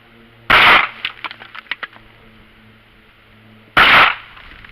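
Two sharp, loud gunshots from a Ruger LCP II compact pistol, fired a few seconds apart, each a sudden close blast with faint clinks and rattles between them.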